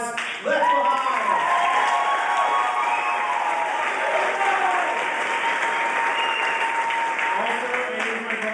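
Audience applause for a rock band at a school afterschool music program showcase: loud, dense clapping starts abruptly and holds steady, with cheering voices mixed in, then eases slightly near the end.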